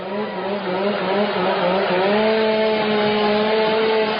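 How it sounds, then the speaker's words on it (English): A chainsaw run by the Portland Timbers mascot drones continuously at a steady high pitch in a soccer stadium, loud and unbroken with a harsh buzzing tone. "Now the Portland Timbers mascot has the chainsaw out."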